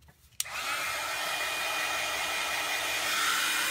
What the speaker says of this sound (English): So I'm going to just hit this just quickly to make sure the ink is dry